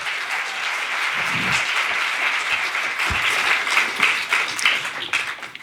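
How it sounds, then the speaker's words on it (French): Sustained audience applause fills a hall at a festival closing ceremony, steady and dense throughout with a brief swell near the end, with no speech over it. "Vous pouvez l'applaudir."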